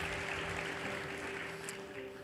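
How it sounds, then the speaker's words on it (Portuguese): A church congregation applauding during a worship service, heard as a faint, distant, even patter of clapping with a low hum in the room. "Podemos aplaudir ao Senhor Jesus?"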